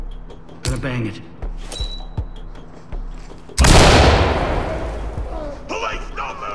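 A flashbang grenade detonates in the tactical shooter Ready Or Not, a sudden loud blast with a long hissing decay, set between earlier thuds and radio chatter and followed by more shouting voices.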